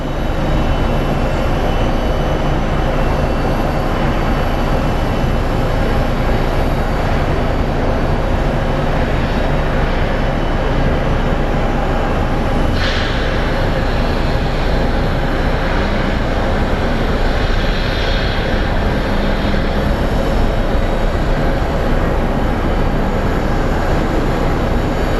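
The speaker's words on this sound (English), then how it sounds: "Awesome touchdown by the little Airbus." A small Airbus airliner touches down at Phoenix Sky Harbor International Airport, heard as a loud, continuous broadband engine and wind roar that holds steady for the whole stretch.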